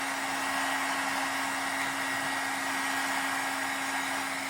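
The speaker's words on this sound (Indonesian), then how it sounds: "atau mesin pengering rambut." A hair dryer blows hot air over a flood-damaged set-top box circuit board, a steady loud whirring roar with a constant motor hum throughout.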